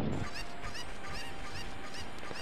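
A cucco chicken in Zelda: Ocarina of Time clucks in a quick series of short squawking calls, close and loud over a dense game-sound background, with no voices.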